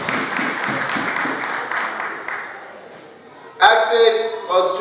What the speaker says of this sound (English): Can we please clap for Luna Multi Products?